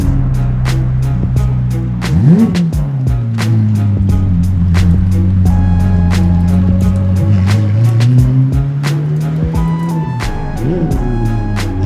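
A modified sports car engine idles with a deep, steady rumble, then revs sharply twice, rising and falling in pitch. It sounds loud and close, with no talking.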